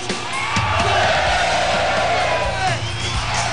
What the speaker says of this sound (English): the crowd going nuts for the Condor